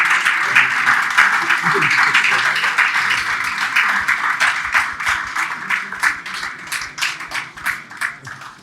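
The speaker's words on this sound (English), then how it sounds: "A louder round of applause for our panelists, please." Conference audience at an API panel session in Lagos applauding the panelists: a dense, sustained round of clapping from a sizeable crowd that gradually thins into more distinct individual claps toward the end, with some voices mixed in.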